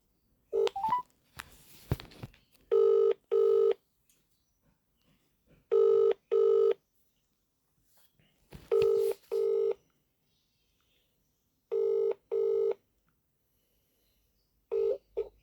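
Touch-tone dialing of a mobile number: a quick burst of keypad tones, then a repeating ringback pattern of paired tone pulses with quiet gaps between, clear and steady over a silent line.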